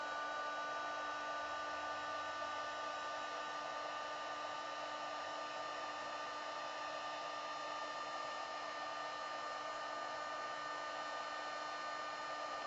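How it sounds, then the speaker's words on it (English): A heat embossing tool blows hot air onto card stock, giving a continuous, even, whirring hiss with a steady motor whine and no pauses, heard alone. "I'm just going to emboss these really quick."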